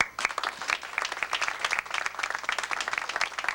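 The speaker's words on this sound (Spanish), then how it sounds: "Aplauso para la señora con palabras bien sentimentales." Audience applause at a Peruvian tamboya gathering honoring a woman, a dense steady patter of many hands clapping throughout with some sharper bright claps, no speech over it.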